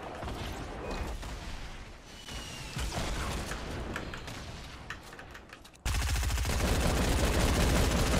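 Rapid gunfire crackles through a video game firefight, dense bursts of shots running continuously and growing louder and more sustained over the last couple of seconds.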